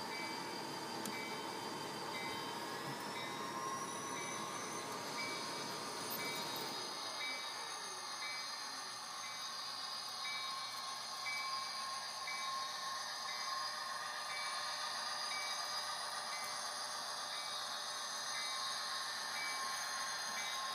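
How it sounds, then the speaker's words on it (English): A Bachmann HO scale SD40-2 model locomotive pulling a freight train runs continuously, a steady rolling rumble with a thin high-pitched whine and hiss throughout. "See, there's the locomotive with the freight train."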